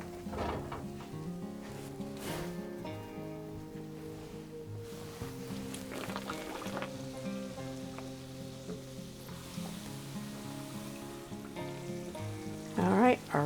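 Fry bread cooks in hot oil, a soft continuous sizzle running under background music, with a couple of louder clattering knocks at the very end.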